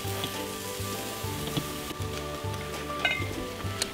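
Chicken yakitori skewers sizzle on a sushi bar grill, a soft crackling hiss with scattered pops and spits above a low hum of restaurant machinery.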